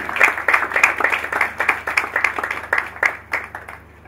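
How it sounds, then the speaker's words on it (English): A smaller group claps for a guest being recognized at the NSE 2019 X-Kathon, distinct individual claps in a quick uneven rhythm, close and fairly loud, tapering off toward the end. "Round of applause."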